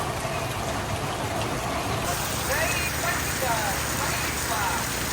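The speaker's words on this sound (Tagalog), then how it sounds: "Kahit umuulan, bumabagyo." Steady rain pours down during a typhoon in the Philippines, a dense continuous hiss of drops on surfaces throughout, with faint voices and a thin high whine mixed in.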